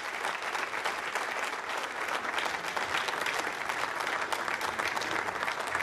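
A mission-control audience bursts into sustained, dense applause after satellite separation during an ISRO rocket launch from Kourou, steady and loud across the whole stretch.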